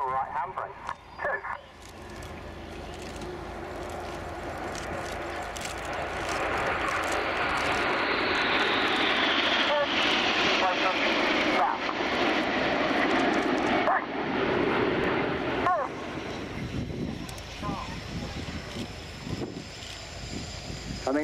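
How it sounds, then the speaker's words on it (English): A Red Arrows jet lands at the RIAT airshow, its engine whine swelling to a loud sustained roar that holds at close range and then eases, with an announcer talking over it. "Touching down now is Red 4, Flight Lieutenant Mike Bowden."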